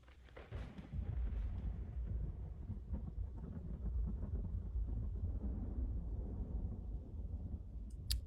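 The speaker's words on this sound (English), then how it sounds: "that is one awesome thunder sound" A deep rolling thunder effect from a video game, loud and sustained for several seconds with heavy low rumble and no voices.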